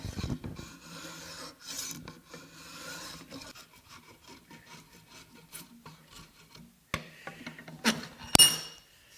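Hand tool shaving wood while shaping a wooden mallet, a steady rasping scrape in repeated close strokes, with a few sharper knocks and clinks near the end.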